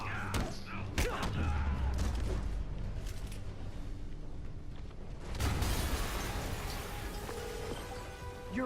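An explosion in the video game Marvel's Spider-Man, a loud broadband blast with a low rumble that rolls on for several seconds, then a second burst of debris and rumbling about halfway through, with game sounds underneath.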